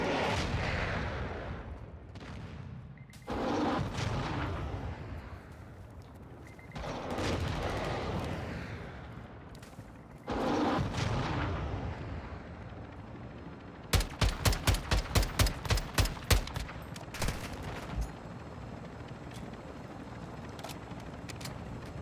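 Frag grenade blasts and gunfire in Warzone 2.0 DMZ: several loud booming explosions, each with a long rolling decay, then a quick burst of sharp rapid gunshots, close and alone without talk.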